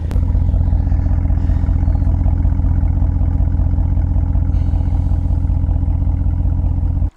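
A Porsche Cayenne engine runs loud and close with a steady, heavy, throbbing rumble that holds even throughout, then cuts off abruptly at the very end.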